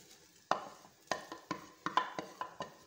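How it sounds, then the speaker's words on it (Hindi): Shredded chicken tipped into a pot of simmering vegetable soup and stirred, giving a string of sharp spoon-against-pot clinks and scrapes, about eight close knocks in a loose rhythm with quiet bubbling underneath. "तो ये मैं इसके अंदर ऐड करके मिक्स करूँगी।"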